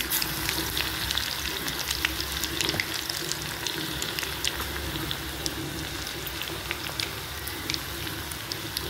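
Garlic goes into hot tempering oil for a moong dal curry and crackles in a dense, close sizzle, with bright pops and spatters scattered through the steady hiss.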